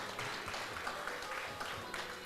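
Steady applause from an audience at a closing ceremony for OECS representatives, a dense, continuous clapping wash at moderate volume throughout.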